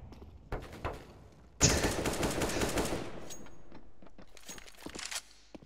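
A sustained burst of automatic gunfire in a CS:GO match rings out loud after a few quieter shots, then trails off with scattered distant shots and no talking.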